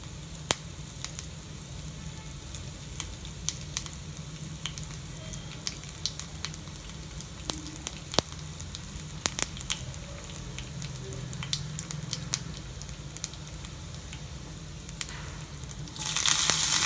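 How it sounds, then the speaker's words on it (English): Crushed pepper and cumin seeds sizzling in hot oil for a wheat rava pongal tempering: a faint, steady frying hiss with scattered small pops and crackles throughout, slightly louder at the very end. "When oil is hot, add freshly crushed pepper, cumin seeds,"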